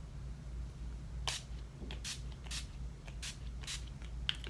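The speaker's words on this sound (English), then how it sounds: "we're gonna spritz ourselves with the NYX Dewy" NYX Dewy setting spray misted onto a face, about six short crisp hissing spritzes spaced roughly half a second apart, close and clear over a low steady hum.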